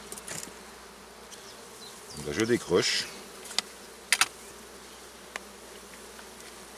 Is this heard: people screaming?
no